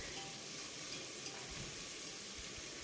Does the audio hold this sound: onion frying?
yes